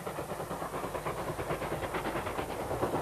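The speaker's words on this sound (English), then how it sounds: "The same year saw Black 5, 5407, working through to Mallaig." LMS Black 5 steam locomotive 5407 works a rake of blue and grey Mark I coaches on the line to Mallaig, with a steady, rhythmic chuffing and rail clatter heard from a moderate distance.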